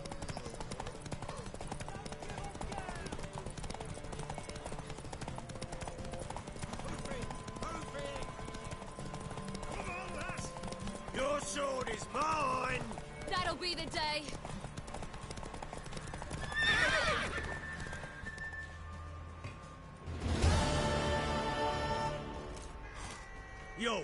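Horse hooves clip-clop in a steady rhythm in the video game The Witcher 3, with a couple of loud neighs and whinnies near the end, under frequent character dialogue and a faint ambient background.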